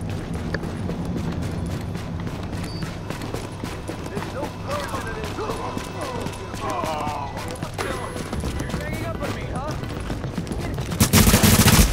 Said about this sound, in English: That better not be another agent shooting me.